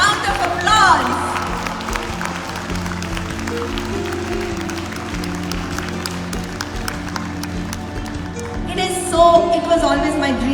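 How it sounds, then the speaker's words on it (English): An audience claps for a student volunteer team at a grand International Yoga Day celebration, scattered applause rising and falling over background music, with a fuller burst near the end. "give them a big cheerful round of applause."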